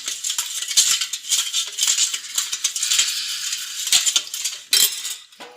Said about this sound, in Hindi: शक्कर पिघलने तक हम इसे अच्छे से चम्मच से हिलाएंगे।